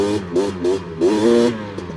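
A liquid-cooled Honda 250R motorcycle engine revs in repeated rising bursts, close and fairly loud, with short gaps between each climb.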